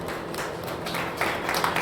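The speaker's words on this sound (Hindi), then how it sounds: "आप सभी की तालियां बजती हैं" Applause at an award ceremony for municipal sanitation workers, a wash of many hands clapping together that holds steady and swells a little in the second half.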